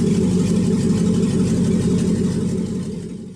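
A car with a swapped LS V8 engine idles just after its first start, a loud, steady low rumble held close by that begins to fade over the final half second.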